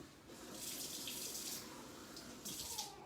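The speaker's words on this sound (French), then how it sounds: "Donc je trempe juste mes doigts dans l'eau" Water splashing and trickling at a sink as fingers are dipped to wet the edge of a maki/California sushi roll, soft and close, with bursts of running water, no talk.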